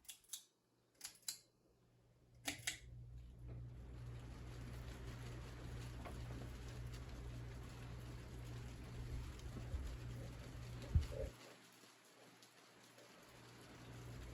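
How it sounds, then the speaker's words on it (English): A Fanimation Louvre ceiling fan is set to high: a few sharp clicks at first, then a faint, steady whir and hum that carries on quietly in the room. "we're going to go ahead and crank this fan to high and see what this fan does"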